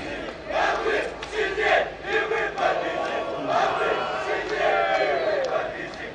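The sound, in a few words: Krumkachy (Ravens) fans from Minsk chanting at football match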